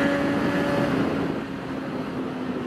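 A 2021 Suzuki Katana motorcycle's engine drones steadily while riding at night, with a sustained tonal hum, broadband wind rush and road noise throughout, slightly easing in loudness partway through.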